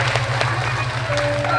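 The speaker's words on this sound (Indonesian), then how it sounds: "Tepuk tangan lalu." Audience applause at a Balinese drama gong stage performance, the Klungkung regency entry at the Bali Arts Festival, with scattered claps over a steady low hum and a sustained tone throughout.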